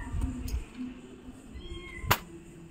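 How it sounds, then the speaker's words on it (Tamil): A kitten meows from a balcony at night during a Pongal kolam session, thin cries rising briefly through quiet background with a sharp click near the end. "பால்கனிலேருந்து எங்களுக்கு பூனைக்குட்டி கத்துற சவுண்டு கேட்குது"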